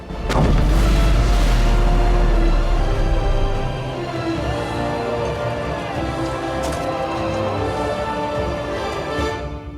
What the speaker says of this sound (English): They have siege weapons.